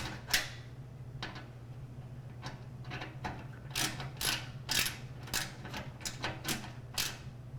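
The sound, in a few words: ratchet tightening a screw during computer build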